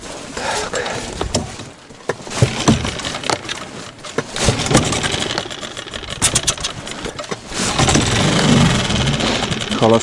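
Boat outboard motor idling on a taiga river, a rough uneven chugging putter with irregular knocks and sputters that grows louder and steadier toward the end, heard close up.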